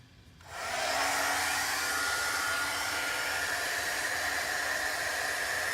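A hair dryer runs steadily at close range, a loud, constant airy whoosh drying a chalk transfer on a board, starting after a brief quiet moment and holding without pause.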